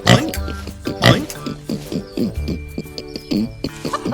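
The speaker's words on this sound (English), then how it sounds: "It's a pink pig." A small pink pig makes a few short, rhythmic oinks and grunts over a bouncy musical backing.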